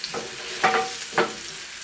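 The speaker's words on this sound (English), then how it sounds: "Stir that up, some oil on them." Shallots frying in oil with salt and pepper, two brief scraping stirs over a soft background sizzle, close and short.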